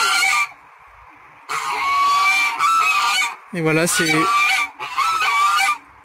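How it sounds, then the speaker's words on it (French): Geese on a farm honk loudly in several bursts, harsh nasal calls repeated close by with short pauses between, and a voice speaks briefly in between. "On a la visite des oies."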